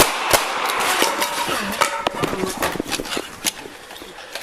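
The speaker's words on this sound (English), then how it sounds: "Shots fired. Shots fired." Sharp gunshots ring out during a police encounter captured on a body camera. Several loud impulsive cracks come at irregular intervals among shouting voices and scuffling.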